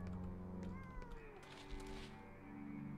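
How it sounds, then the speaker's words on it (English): A cat meows in the video game Pathologic 2, a few short rising-and-falling mews, fairly faint over steady game ambience and low background hum. "I heard a kitty."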